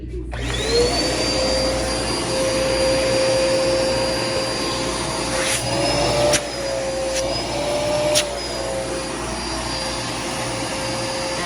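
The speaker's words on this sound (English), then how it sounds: "So we can see the true potential of the Dirt Devil. So we'll plug this in and we'll give it a go." Dirt Devil vacuum cleaner running continuously up close, a loud steady whirring roar with a high motor whine that wavers slightly in pitch, and a few faint bumps.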